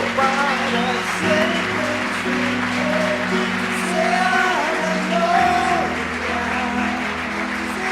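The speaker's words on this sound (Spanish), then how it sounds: "Démosle un fuerte aplauso al Rey glorioso, maravilloso, poderoso." Congregation applauding loudly during a Spanish-language sermon, sustained clapping mixed with scattered shouts and cheers over a held keyboard chord.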